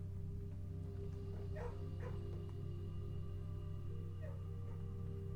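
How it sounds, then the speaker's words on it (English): Dogs barking near a kennel in the video game Blue Prince, a few faint distant barks and yips over a steady low background hum. "Why did I hear dogs?"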